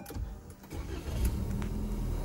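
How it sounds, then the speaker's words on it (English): A 2020 Lexus UX 200 with a 169 hp engine starts up and settles into a steady idle, heard faint and muffled with no talking. "now I'm going to start the car again"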